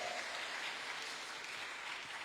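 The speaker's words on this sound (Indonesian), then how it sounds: "kasih tepuk tangan buat Ivan dan juga Dexter." Applause from the congregation at a New Year's Eve church service, steady and sustained, filling the room at a moderate distance with no talk over it.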